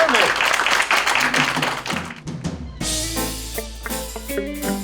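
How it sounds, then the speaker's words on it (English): A stage show audience applauds, a dense roar of clapping for about two seconds before band music with keys and bass takes over. "Give yourself a round of applause."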